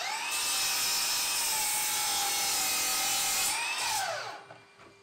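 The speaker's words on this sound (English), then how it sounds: "I drill pilot holes to make sure the wood doesn't split" A power drill bores pilot holes into wooden decking boards for a garden table, its high motor whine steady and close for about four seconds, then winding down and stopping.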